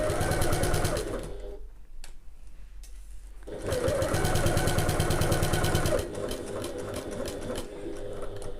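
Sewing machine stitching foam stabiliser to fabric panels, a close rapid mechanical whir in bursts, pausing briefly mid-way before running steadily again, with faint handling noise between runs.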